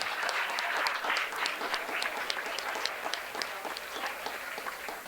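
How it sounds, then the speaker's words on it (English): Sustained applause from participants at an annual strategic planning retreat in Westford, a steady, moderately loud patter of many hands clapping in a meeting room, continuing for the whole stretch without a clear break. "How about a round of applause for everybody who's participated?"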